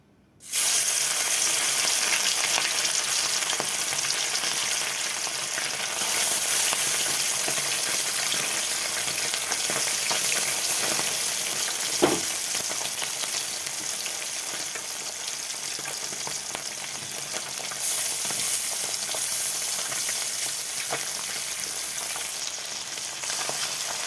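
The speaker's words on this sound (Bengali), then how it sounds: "তেলটা গরম হয়ে গেছে, এখন আমি মাছগুলো ভেজে নেব বন্ধুরা।" Fish sizzling in hot oil in a home kitchen while cooking a Bengali dish, a steady, loud, close frying hiss that runs unbroken throughout with faint stirring and one brief clink near the middle.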